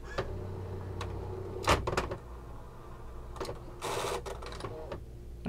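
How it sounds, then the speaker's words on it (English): A Brother AX-22 electronic typewriter runs its self-test, spinning the daisy wheel with quick mechanical clicks and a brief whirring burst, close up against a quiet room hum. "went through a little self-test. Basically, just spun its daisy wheel"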